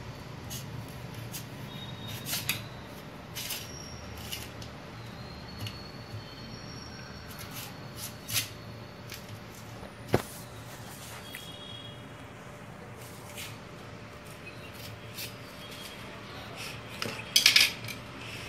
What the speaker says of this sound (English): I have take here a knife and now I will cut this